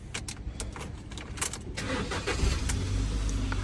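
A Mk5 Ford Fiesta's engine is started close by: keys jangle briefly, then the engine cranks and catches, rising into a steady, rumbling idle.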